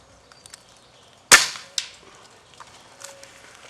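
A single sharp crack from an Air Arms Pro Sport air rifle fired outdoors at a small target 49 metres away, followed moments later by a fainter knock from the hit, with quiet surroundings afterward.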